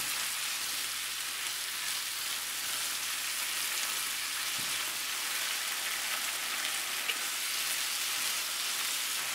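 Squid sizzles steadily in black bean sauce in a stir-fry pan with a thickening juice. It makes a continuous, even hiss at moderate loudness and carries on alone without talk.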